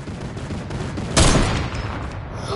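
A single sharp burst of gunfire in a shooter video game cracks out loud and close, then decays into a rumbling tail, with no talk over it.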